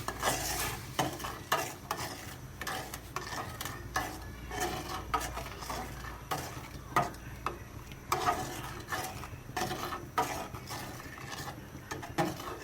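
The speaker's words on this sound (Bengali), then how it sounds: "এবার জালটা বাড়ায় দিবেন। নাড়বেন।" Spoon scraping and stirring strong coffee with sugar in a pan over a raised flame, a continuous close rhythm of clinks and scrapes over a soft sizzle.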